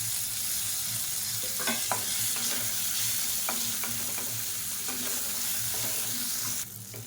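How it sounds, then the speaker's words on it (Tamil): Chutney ingredients with a small piece of tamarind and a handful of coriander leaves sauté in a pan over a medium flame, giving a steady close sizzle broken by repeated scraping stirs throughout. "மீடியமான ஃப்ளேமில் வதக்கி எடுத்துக்கலாம்."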